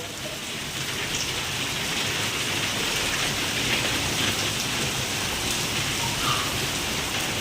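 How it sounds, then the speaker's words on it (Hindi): Heavy rain pours down continuously, a dense, loud hiss of drops striking surfaces with no break in the downpour. "इतनी जोरदार बारिश होगी जन्माष्टमी वाले दिन। वाह बहुत बढ़िया बारिश आ गई"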